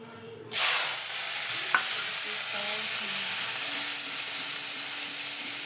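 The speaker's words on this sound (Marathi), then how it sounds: "त्याच्यामध्ये आता आपण कांदा आणि टमाटर कापून घेतले आणि हिरवी मिरचीचं ठेचा करून घेतले, ते आपण तेलामध्ये टाकून घेऊया" Cut onion, tomato and crushed green chili dropped into very hot oil, bursting into a loud, sudden sizzle that stays as a steady, intense hiss, with a brief clink of stirring.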